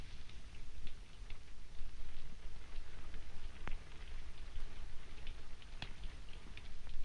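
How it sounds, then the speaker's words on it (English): Steady rain falls with a constant close hiss and scattered individual drop ticks on surfaces, with no talking. "It's only the rain."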